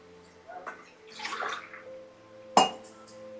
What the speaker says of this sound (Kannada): ನೆಕ್ಸ್ಟ್ ನೀರು ಹುಯ್ತಾ ಇದ್ದೀನಿ